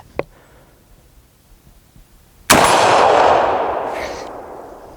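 A single Marlin-Glenfield Model 30 rifle shot rings out against a steel target outdoors, one sharp loud crack with a ringing decay after a faint earlier click.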